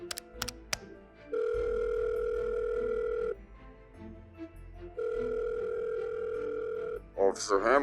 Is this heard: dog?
no